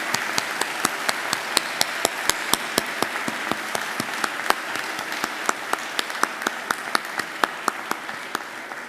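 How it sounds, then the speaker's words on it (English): Graduates at a university ceremony turn and applaud their families, a steady wash of clapping in a large hall with sharp, regularly spaced claps standing out near the front. "give them a hearty round of applause"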